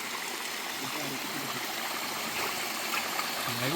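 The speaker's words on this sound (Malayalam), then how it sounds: "നമ്മുടെ അവിടുത്തെ ഒരു ചെറിയൊരു വെള്ളച്ചാട്ടമാണ് കേട്ടോ." A small village waterfall rushes steadily at a moderate distance, a constant soft wash of flowing water with faint voices in the background.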